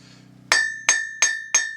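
Four evenly spaced, ringing hammer blows strike hot steel on an anvil while blacksmithing nail hooks, each sharp and close with a bright metallic ring that decays before the next.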